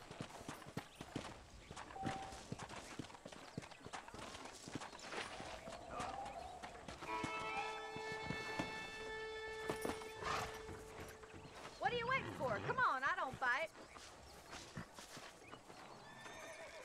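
Hooves clip-clop as a horse is ridden in the Western video game Red Dead Redemption on PS3, with neighs and whinnies, a hard rhythmic gallop in the middle and faint game dialogue nearby.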